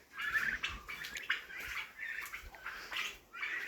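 Turkey poults chirp in quick, high peeps, several overlapping calls repeating steadily at moderate distance, with no talking.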